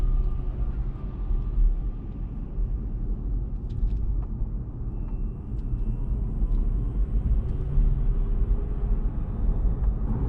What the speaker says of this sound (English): We're driving down the hill.